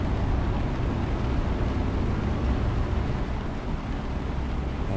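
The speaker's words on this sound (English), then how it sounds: "the rain's way too loud compared to the engine" Heavy rain and a car engine in a wet-weather driving video game, a dense, steady low rumble and hiss filling the whole stretch, with no distinct pauses or voices.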